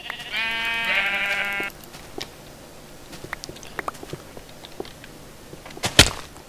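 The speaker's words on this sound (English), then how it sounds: "It's a sheep. Hello sheep, how are you?" A sheep in the video game Minecraft gives one clear, loud wavering bleat, followed by quieter scattered clicks and taps and a sharp thump near the end.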